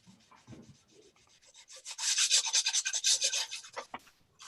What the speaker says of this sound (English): we want to make sure we rough up the epoxy